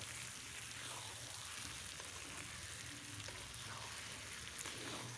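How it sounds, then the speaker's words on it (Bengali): Chicken frying in spice masala in a pot on an outdoor wood stove, a steady dense sizzle like light rain running throughout, faint and even with no clear stirring strokes. "এখন আমি দিয়ে দিলাম চিকেনগুলোকে, আর খুব ভালোভাবে নেড়ে চেড়ে আমি একটু ঢাকা দিয়ে দেব।"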